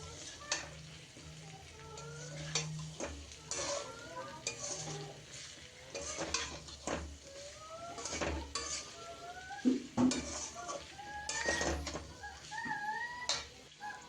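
Paneer is stir-fried in a pan for a vegetarian paneer curry, with a spatula scraping and clinking against the metal in irregular strokes over a light sizzle, close and moderately quiet.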